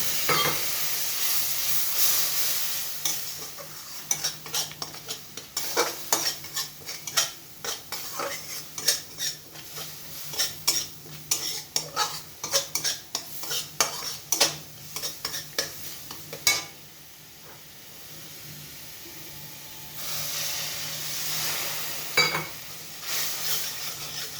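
A spoon stirs and scrapes a spice mixture cooking with a splash of water in a pan. The repeated clinks and scrapes come over a soft, steady sizzle, with a pause and gentler hiss near the end.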